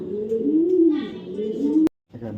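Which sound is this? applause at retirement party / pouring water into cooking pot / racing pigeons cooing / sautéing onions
racing pigeons cooing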